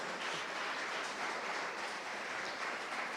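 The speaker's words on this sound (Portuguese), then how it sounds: "Então você pode aplaudir também" A church congregation applauding together, a steady wash of many hands clapping at a moderate distance, sustained and even with no voices standing out.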